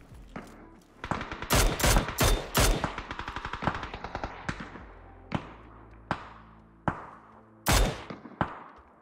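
Sharp gunshots ring out in PUBG. A dense rapid volley opens the passage, then single and paired shots follow at irregular intervals, loud and close, with no talking over them.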